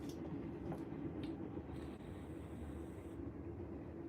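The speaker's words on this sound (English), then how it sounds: "Oh, train is passing by." Train passing by at a distance, a faint low steady rumble with a thin metallic high tone drifting in midway, no talking.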